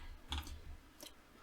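A few distinct keyboard clicks, with a pair of quick clicks then one more a moment later, sounding close and fairly quiet against a low background hum in a home computer setup.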